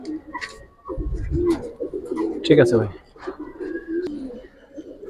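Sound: Gribaz silver coloring pigeons cooing

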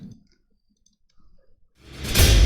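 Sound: mouse click pressing the Battle button in Splinterlands

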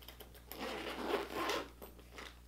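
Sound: zipping a Longchamp bag closed

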